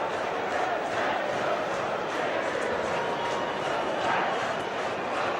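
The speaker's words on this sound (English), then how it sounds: "The crowd are trying to change the opinion of the officials" A dense, roaring rugby crowd at Gloucester against Northampton jeers and shouts in protest at the officials, a steady wall of massed voices with no lulls, loud and sustained throughout.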